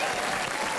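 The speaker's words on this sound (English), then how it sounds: "enough clapping" Brief burst of studio audience applause on a comedy show, a dense wash of clapping heard alone for under a second.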